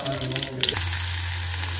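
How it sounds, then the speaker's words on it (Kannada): Mustard seeds splutter in hot oil in a pan, making a steady close sizzle with faint crackles beneath a low background hum, as the tempering for a dill-leaf upsaaru begins. "ಇವಾಗ ಸ್ವಲ್ಪ ಆಯಿಲ್ ಹಾಕ್ಕೊಂಡು ಸಾಸಿವೆ ಕೂಡ ಹಾಕ್ಬಿಟ್ಟಿದ್ದೀನಿ"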